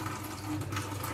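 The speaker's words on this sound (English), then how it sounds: "I use the hot water and I run it around the rim," Hot water from a tap runs in a steady, close, continuous rush while being used to wet a glass rim for salt.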